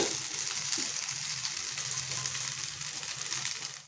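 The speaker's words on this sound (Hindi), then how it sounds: "तापर अंडा पकईदबा ताको भल से मिक्स करदबा" An egg fries in a pan for egg chowmein, giving a steady, soft, continuous sizzle and crackle that fades away at the very end, with no talking.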